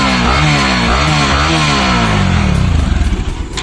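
A motorcycle with its stock exhaust revs up and down loudly and close by, its pitch rising and falling in repeated swells before settling into a throbbing idle.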